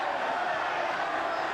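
Steady roar of a large rugby stadium crowd at an Australia versus England test match, a dense, restless murmur of disapproval that holds evenly throughout.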